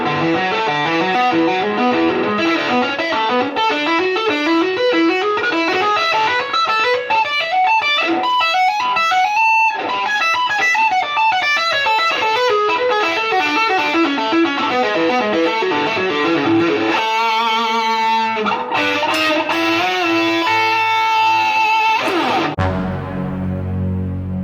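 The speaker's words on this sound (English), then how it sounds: "the whole lick played together slowly should look and sound kind of like this" Distorted electric guitar plays a slow tapping lick, a long flowing run of rising and falling notes with short breaks near the end, loud and alone with no talking.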